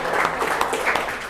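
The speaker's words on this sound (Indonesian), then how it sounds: "Tepuk tangan dulu buat temennya." Classroom applause for a student who answered correctly during a high-speed fiber optic networking lesson, a short burst of scattered claps from a small group lasting just over a second.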